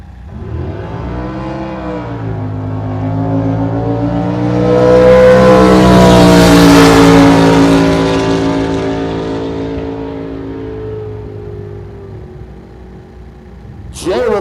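A Cole 565 Chevy drag car makes a pass, its engine note climbing and sweeping loudly as it accelerates away and then fades over several seconds.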